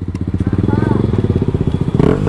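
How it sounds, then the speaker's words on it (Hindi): Motorcycle fitted with a newly changed exhaust, a loud, close, rapid burbling throb with a pulsing rhythm, rising slightly near the end; voices are heard over it. "अभी नया एग्जॉस्ट चेंज किया"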